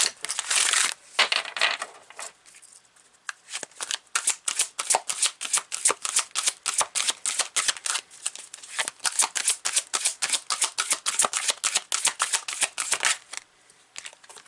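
Tarot cards are shuffled in a long run of quick, crisp riffling bursts, close and fairly loud, with a brief pause near the start and no talking.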